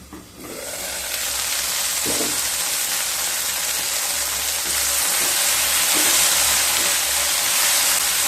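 Okra fries in a pan over medium heat, a loud, continuous sizzle that swells after a brief quiet start, with faint stirring scrapes now and then.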